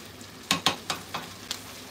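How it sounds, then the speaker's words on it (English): Food sizzles in a pan with a few sharp bursts of crackling spatter, close up, over a steady low frying hiss. "just frying it up a little, just a little"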